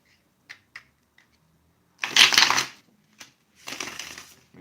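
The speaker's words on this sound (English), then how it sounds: "Let me shuffle one more time" A deck of tarot-style reading cards is shuffled by hand: a few light taps, then two bursts of riffling and rustling, close and fairly loud with no talk.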